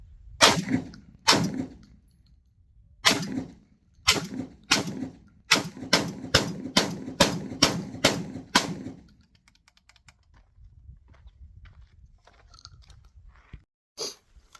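A Tokarev TT12 Pro semi-auto shotgun fired from the hip with 1300 fps AA shells, a rapid string of about a dozen sharp, loud reports (a few spaced, then fast succession) echoing outdoors, followed by quiet and one later shot.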